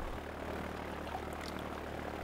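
A Piper Super Cub floatplane engine idles while taxiing on water, a steady, low droning hum, faint and continuous, with no talking.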